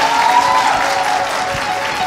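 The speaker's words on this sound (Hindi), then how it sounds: "भाई खुशी का इजहार ज़रा तालियों से हो जाए।" An audience at an event held in a Rawalpindi hospital breaks into applause, a loud, dense and continuous wash of clapping that holds steady for the whole stretch.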